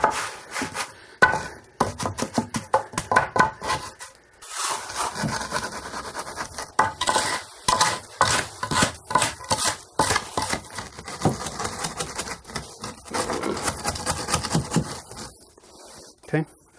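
A shovel scrapes and spreads wet concrete across a basement floor being backfilled and poured, giving repeated rough rasping strokes in an irregular rhythm, close and fairly loud, with short pauses between strokes.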